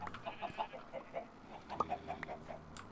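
A chicken in Minecraft Sky Factory 3 gives a run of short repeated clucks in a steady rhythm, quiet and alone, with a brief sharper click partway through.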